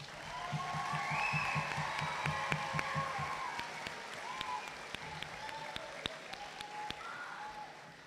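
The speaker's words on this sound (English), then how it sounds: "congratulating the class of 2023 with a huge round of applause" A large crowd applauds steadily at a 2023 school graduation ceremony, with a dense patter of claps and scattered sharper ones, sounding somewhat distant, with faint cheering underneath.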